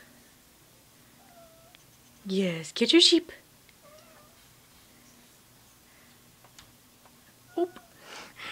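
A pet cat named Cole gives a few short meows and a longer complaining cry, close and fairly loud, with quiet gaps between them while a person speaks to it in between.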